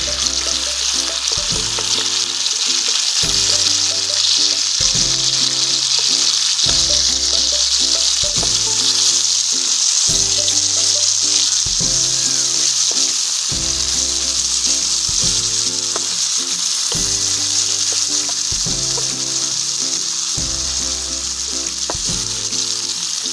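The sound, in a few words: chicken tikka with tomatoes frying on a tawa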